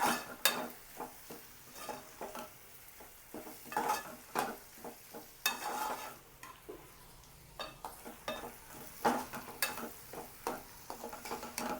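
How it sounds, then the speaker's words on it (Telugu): Precooked prawns are stirred into an Andhra-style curry frying in a pan, with repeated scraping and clinking of a spoon against the pan over a low, continuous sizzle. "ఈ రొయ్యలు కూడా వేసి బాగా కలియబెట్టండి"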